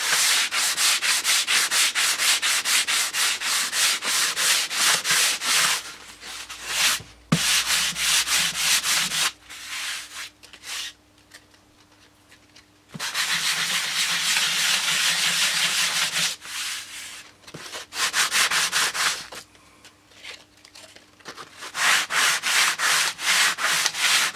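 A surface being sanded by hand, giving loud, close, rhythmic back-and-forth rasping strokes in long bursts broken by brief pauses and a quieter stretch, with no talking.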